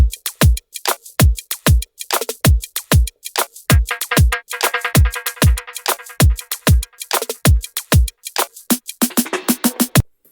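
A punchy electronic drum loop with deep kicks and crisp hits in a steady, busy rhythm, played loud with no voices.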